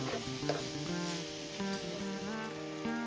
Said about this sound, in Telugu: ఇప్పుడు స్టవ్ పైన ప్యాన్ పెట్టుకుని కూరకు సరిపడా ఆయిల్ పోసుకుని ఇందులోకి మనం తయారు చేసి పెట్టుకున్నటువంటి ఆనియన్స్ని వేసుకుని బాగా వేగనివ్వాలి